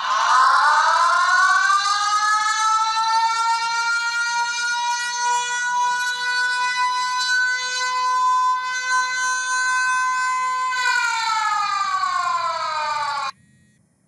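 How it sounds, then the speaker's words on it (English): A loud electronic siren tone from the eSENTINEL phone app rises, holds steady for several seconds, then climbs again before cutting off abruptly. "the phone will play a siren noise and begin to flash the screen and flashlight"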